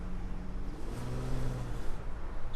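An Infiniti FX35's 3.5-litre V6 engine revs up with a rising, throaty drone and rumbling exhaust, steady and fairly close, with no talking.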